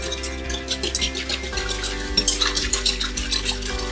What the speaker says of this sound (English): That's why we stir it with the sugar.